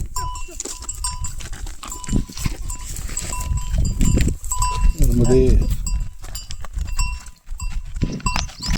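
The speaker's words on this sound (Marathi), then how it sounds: "तेच ते सगळ्या गायी आल्या" Cows bleating and cowbells clanking as the herd arrives amid outdoor bustle beside the Narmada river, with people talking and calling out over the animals.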